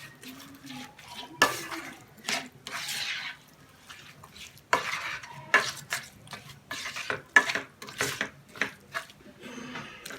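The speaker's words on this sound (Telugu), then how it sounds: "ఈ ఆనియన్స్లోకి బాగా టమాటాస్ని కలుపుకొని మెత్తగా మగ్గిపోవాలన్నమాట." A spoon stirs onions and tomatoes frying in a kadai, giving irregular scraping and clattering strokes over a soft sizzle, close by.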